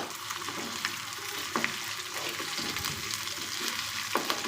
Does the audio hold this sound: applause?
no